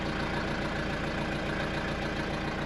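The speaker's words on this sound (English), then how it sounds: "And even with a cold engine," A cold Mercedes W201 190D diesel engine idling with a steady low rumble and an even, close, continuous clatter, with no voices.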